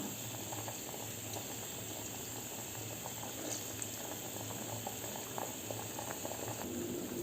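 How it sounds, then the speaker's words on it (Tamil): Water with lemon juice boiling steadily in a pot, a continuous bubbling churn with small pops, fairly quiet and close, no voices. "இப்போ தண்ணி நல்லா கொதிச்சிருச்சு."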